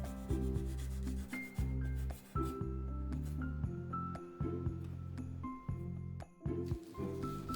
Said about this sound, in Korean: 손톱 정리할 때 사용하는 네일 파일처럼 생긴 걸로 꼼꼼히 샌딩 해주었어요.